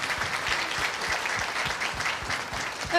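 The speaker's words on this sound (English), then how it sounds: "Would you give her a round of applause?" A room full of people at a palliative dementia care event gives a steady round of applause, dense clapping that holds at an even level from start to finish.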